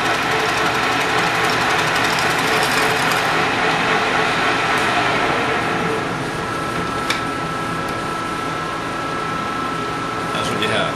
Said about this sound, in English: Okay, we drilled our hole.